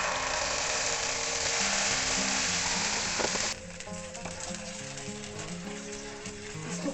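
Ketchup and red chili sauce stirred in a hot pan while making egg Manchurian, with a steady loud sizzle and scraping clatter that drops to a quieter crackle partway through.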